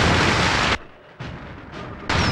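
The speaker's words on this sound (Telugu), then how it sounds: "ఇక్కడ రకరకాల టపాకాయలు బాంబులు పేలుతున్న చప్పుడు వింటున్నావా?" Film sound effect of firecrackers and bombs exploding, heard as three loud, dense bursts of blast noise with short quieter gaps between them.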